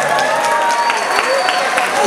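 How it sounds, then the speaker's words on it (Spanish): Applause and cheering from an audience at the Omega Royale fan convention, a steady crowd wash lasting a couple of seconds with excited voices mixed in. "Muy bien, un aplauso"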